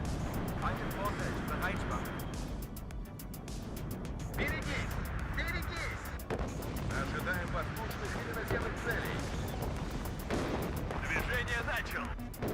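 Artillery fire in the real-time strategy game WARNO rumbles as repeated heavy booms and blasts under continuous battle noise, with someone talking over it throughout.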